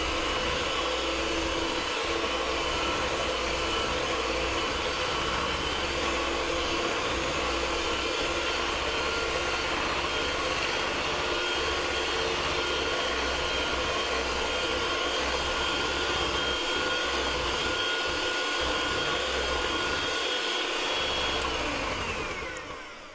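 Electric mixer beating healthy cake batter with egg yolks, a loud continuous motor whir holding steady for over twenty seconds before winding down at the end.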